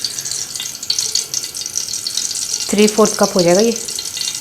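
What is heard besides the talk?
ghee frying for tadka in a pan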